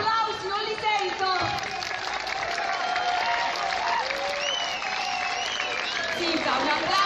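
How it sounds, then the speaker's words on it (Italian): An audience claps at a teachers' training course, sustained dense applause mixed with cheering and whoops running throughout, while a voice talks over it. "Zita, un applauso forte!"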